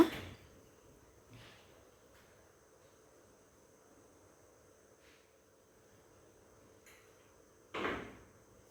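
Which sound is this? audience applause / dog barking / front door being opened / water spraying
front door being opened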